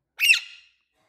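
An Alexandrine parrot gives a single sharp, loud squawk lasting about half a second, close up, then silence.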